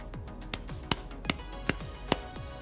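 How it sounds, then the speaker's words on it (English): About half a dozen sharp, isolated hand claps spaced roughly evenly, each cracking loudly with a short ringing decay in a small room while testing a microphone and audio interface, no voices. "Let's try a clapping sound."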